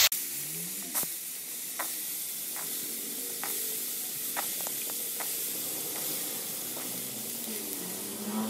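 Potatoes fry in hot oil with a continuous, even sizzle and hiss, punctuated by occasional sharp clicks of stirring, with no talking.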